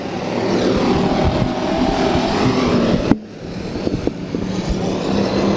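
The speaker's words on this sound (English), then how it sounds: "Engine does not sound real good." Enduro race cars at Bakersfield's 1995 Budweiser Racing Series event, engines droning and roaring continuously around the track, one engine running rough, with a sudden sharp bang partway through before the roar resumes.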